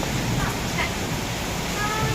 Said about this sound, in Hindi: बहुत तेज़ बारिश आ रही है जयपुर में।